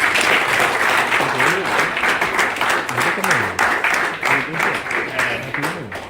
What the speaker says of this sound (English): Can you all give a big round of applause?